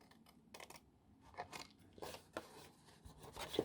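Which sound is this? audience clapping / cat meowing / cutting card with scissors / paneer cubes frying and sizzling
cutting card with scissors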